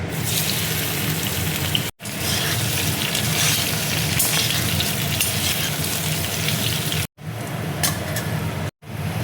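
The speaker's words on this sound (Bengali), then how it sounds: "এবার দেখো মানকচুটা আমি ভেজে নেব।" Giant taro (maan kochu) pieces fry in mustard oil in a pan, giving a steady loud crackling sizzle that runs almost without a break, interrupted only by a few brief silent gaps.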